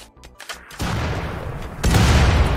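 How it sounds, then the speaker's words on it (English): Mortar barrage in the colony-building game Rimworld: a burst of heavy booming fire that swells into a dense, sustained rumble of overlapping blasts, growing louder toward the end, with no talk over it. "Guys, I got the mortars up."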